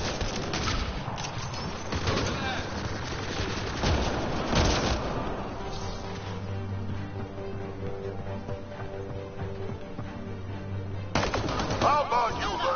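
Gunfire in the sci-fi game Mass Effect Andromeda: rapid bursts of shots in the first few seconds, then a steadier droning combat backdrop, with another burst near the end.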